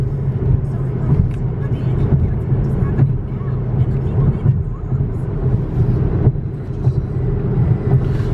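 A 2014 Cadillac ELR, a salvage gray coupe, accelerates with a steady low drone and road hum at close range, rising gently and holding constant throughout, with faint voice-like sounds beneath the engine.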